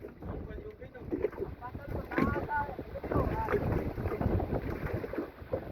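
Strong wind buffets the microphone in a steady roar over a boat engine, with voices talking intermittently beneath the noise.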